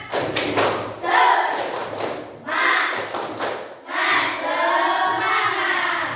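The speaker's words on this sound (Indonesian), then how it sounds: "Coba tepuk semangat." A classroom of pupils performs the rhythmic 'tepuk semangat' clapping cheer, loud bursts of patterned claps and slaps mixed with chanted voices, close by.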